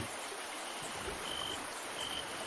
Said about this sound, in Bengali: কেবল জলের ছলাৎ ছলাৎ শব্দ